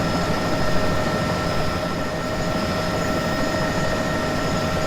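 A helicopter flies steadily in a desktop flight simulator game during a crop-dusting aerial spraying run, its engine and rotor making a continuous loud drone with a tonal whine and no talk over it.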